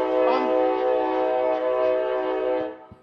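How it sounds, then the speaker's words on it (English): Horn of the Amtrak Empire Builder sleeper train sounds a loud, steady, sustained chord close by for about three seconds, then cuts off, with a brief clank of the train after it. "We're getting back on the train."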